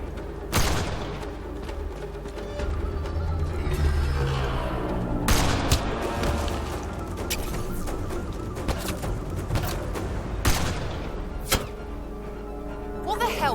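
Gunfire in the Mass Effect Andromeda sci-fi shooter: repeated sharp shots and bursts ring out through a busy combat mix, with several loud cracks standing out over a continuous battle din, and voices shouting now and then.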